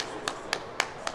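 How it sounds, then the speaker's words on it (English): Slow, evenly spaced hand claps from a spectator at a college hockey game, four sharp claps about a quarter second apart, moderately close over a low arena murmur. "Should we start clapping here now?"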